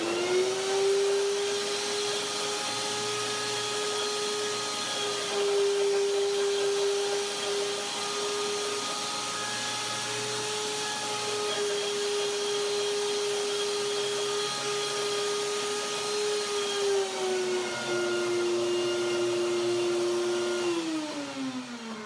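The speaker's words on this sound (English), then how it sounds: "I blend the bananas with the cashews to get everything creamy." A blender whirs steadily through bananas, cashews and dates, its motor pitch holding high and then stepping down slightly near the end, continuous and close with no talking.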